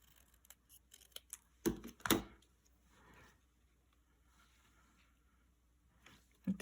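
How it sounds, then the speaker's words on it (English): Scissors cut card stock during card-making, a few crisp close snips clustered together, then quiet handling noises, faint overall with no talking. "I'm gonna snip this one too"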